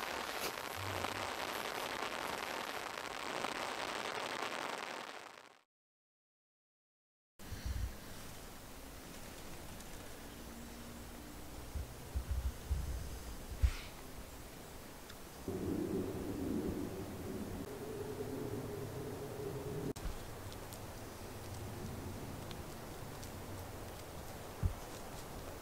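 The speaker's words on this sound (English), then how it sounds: "it's raining out there" Steady rain patters on a tarp tent shelter during a winter rainstorm at night, a dense continuous hiss with occasional heavier drips and thumps, heard alone after a brief silent gap.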